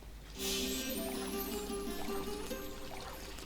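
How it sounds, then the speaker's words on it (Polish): Flowing water from a small roadside fountain in the Prince of Persia video game, a steady trickling pour running continuously alongside tonal game music. "Taka przydrożna fontanna."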